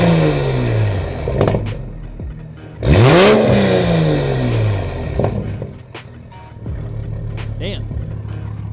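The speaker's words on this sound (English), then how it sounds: "Dude, this thing is so loud" An MK5 Toyota Supra with a stage 2 exhaust and intake revving on a cold start, loud and close, the engine note climbing and falling through repeated blips, with a voice speaking over it.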